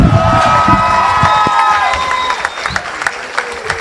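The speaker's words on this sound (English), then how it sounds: "Let's give another round of applause to Carter Stokes." A high school crowd at an International Day assembly fills the room with loud, continuous applause and cheering, with whoops and shouts over the clapping. A sustained musical tone sounds underneath, and the noise slowly thins toward the end.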